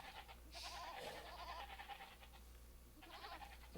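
Two bleats from sheep in the Age of Empires video game, each a wavering, nasal cry, the first longer and the second shorter after a brief pause, under a low game hum.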